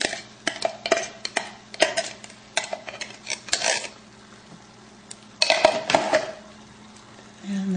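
Cans of diced tomatoes and beans tip into a pot of turkey chili, a close run of clattering metal knocks and wet plops, then a pause and a second burst of sloshing clinks.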